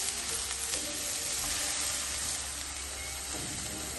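Cheeseburger patties sizzle on a Blackstone griddle in a steady, loud, close hiss and crackle of frying, with no talking.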